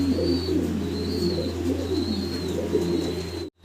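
A pair of Andalusian-colour racer pigeons with their two young coo softly and repeatedly close by, with low rolling coos under a steady background hum and faint higher chirps.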